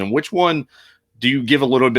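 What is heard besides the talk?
No everyday noise stands out behind the speech.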